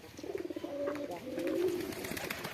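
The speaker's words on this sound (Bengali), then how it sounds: "এই কবুতর কবুতর।" Pigeons coo close by in a soft, rolling call that rises and falls, with light rustling in the background.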